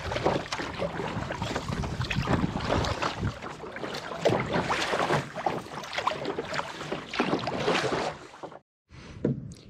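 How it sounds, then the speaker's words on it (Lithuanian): Choppy waves on Dūriai lake wash and slap steadily for several seconds, close and fairly loud, mixed with wind buffeting the microphone, before a sudden brief silence near the end. "Ir bangos. Ir vėl bangos."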